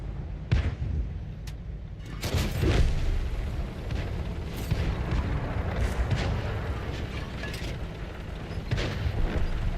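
Tank cannon fire in a tank video game featuring the Red Tiger: heavy booming shots and rumbling blasts over a dense, continuous roar of battle noise.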